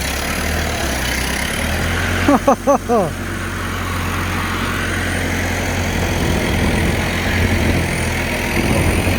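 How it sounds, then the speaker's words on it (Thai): A mini hay baler's engine runs with a steady low drone throughout, joined by a brief burst of chirpy, warbling tones early on. "เครื่องยนต์ใช้ได้ครับผม แต่ตอนเลี้ยวจะมี การโหลดหน่อย"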